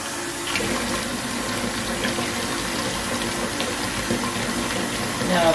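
Hot water pouring steadily into a canning pot holding jars of cranberry sauce, a loud, continuous close rush of running water without pause.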